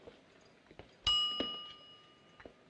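A kitchen timer bell in a sitcom kitchen gives one bright ring with a lingering metallic tone and a softer second strike, heard alone over a quiet room.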